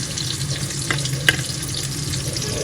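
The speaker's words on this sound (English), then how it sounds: "So I'll be frying it with tomato puree." Tomato puree and onion fry in a pan with a steady, close sizzle, and a couple of sharp scrape-and-stir accents cut through. No one talks over the constant crackling.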